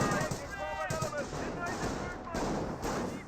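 Gunfire from a Panzer in Company of Heroes, a World War II strategy game: a dense, continuous stretch of rattling shots and booming bursts under steady battle noise, loud throughout.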